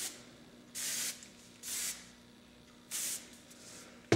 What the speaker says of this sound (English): And then finish it off with a good hairspray.